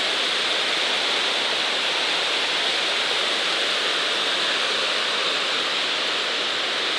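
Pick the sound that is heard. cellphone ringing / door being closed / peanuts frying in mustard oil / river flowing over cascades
river flowing over cascades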